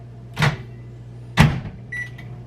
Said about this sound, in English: I'm gonna microwave this for 2 minutes